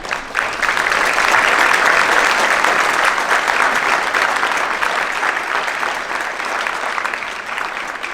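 A school audience applauds administrators and the Board of Education at a December concert: a full, steady round of clapping that holds for about eight seconds and fades slightly toward the end.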